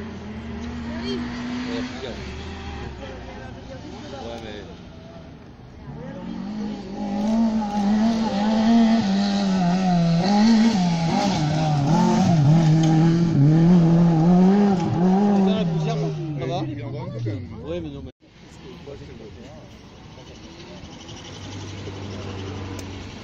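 Historic rally cars run a gravel special stage, one engine droning close and rising in pitch, then pulling away before a sharp cut; voices talk over it.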